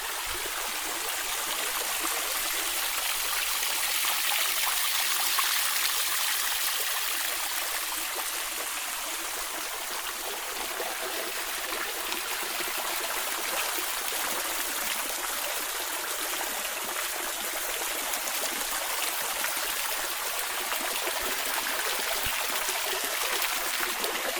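A water feature in Aymerich park at Laconi flows steadily, a continuous bright splashing rush of falling water that stays even and fairly close throughout.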